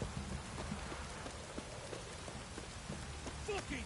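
Steady heavy downpour of rain in a PS4 video game, a dense continuous wash of drops on surfaces with no voices over it.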